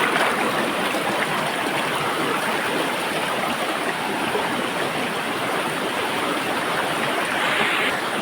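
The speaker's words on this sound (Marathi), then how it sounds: "पाणी आहे ना एकदम भयंकर पाणी आहे बघा" A strongly flowing stream rushes in a steady, loud, unbroken roar of water at a crab-catching spot, with no voices over it.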